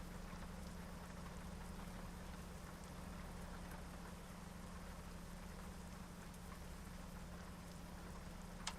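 Steady, even rainfall in American Truck Simulator hisses continuously with a faint low hum underneath, soft and unbroken throughout.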